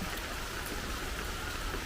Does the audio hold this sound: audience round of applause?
no